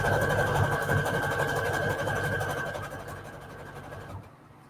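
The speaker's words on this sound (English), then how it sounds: "I'm also going to use zigzag stitch here" A sewing machine runs a zigzag stitch through fabric for book paper scrap trim, a close, steady rapid whirring hum that gradually softens and stops near the end.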